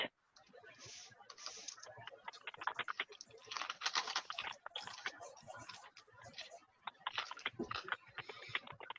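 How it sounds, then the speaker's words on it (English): Fingers tap at a computer keyboard in quick, uneven bursts of light clicks while a person talks over them throughout. "Oh, I'm not typing well."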